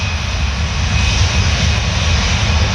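An EasyJet A320 airliner roars on its takeoff run at full power at Paris Orly, a loud, steady, close broadband jet blast that holds without letup.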